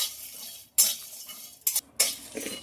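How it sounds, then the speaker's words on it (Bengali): Spices frying in a kadai: metal scraping and clattering in three short bursts, separated by quieter stretches with a faint sizzle underneath. "মশলাটা ভাজার জন্য খুব ভালোভাবে নেড়ে দেবো"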